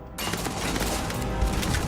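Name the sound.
frag mine explosion in video game Starfield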